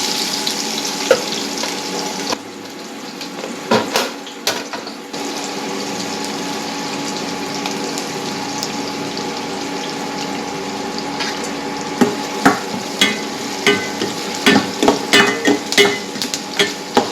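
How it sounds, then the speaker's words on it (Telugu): Ivy gourd and onion fry in oil in a pan, a continuous sizzle with repeated sharp clacks of a spoon stirring and scraping, loud and close. "ఇప్పుడు కొంచెం ఆయిల్ వేసుకొని ఒక త్రీ స్పూన్స్ ఆయిల్ వేసుకొని వేపించుకోవాలి"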